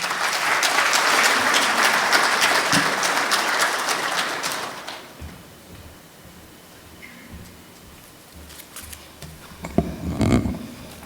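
An audience at an award ceremony applauds, a dense loud wash of clapping that fades out after about five seconds, leaving a quiet room and a couple of faint thumps.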